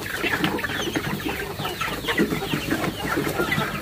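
Free-range layer chickens at a feeder cluck continuously in a busy, close-up chorus, with overlapping calls and faint background rustling.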